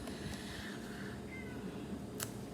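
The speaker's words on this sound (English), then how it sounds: "my cat is out here meowing outside my window" A cat meows faintly from outside a window, a couple of thin, drawn-out cries sitting over a steady background hiss.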